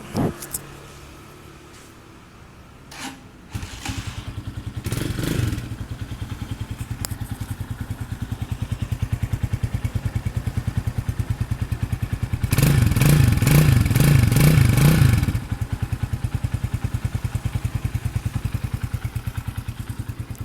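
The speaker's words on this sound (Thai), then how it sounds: "เครื่องเดิมๆนะครับเงียบๆนะครับ" A 2019 GPX Legend 200 motorcycle with its stock engine runs close by at a steady, fairly quiet idle with a rhythmic mechanical thrum, rising briefly to a louder throb partway through.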